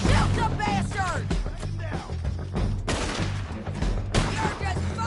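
A Red Dead Redemption gunfight: rapid shots and crashing impacts crowd together, loud and dense, over shouting voices that keep talking throughout.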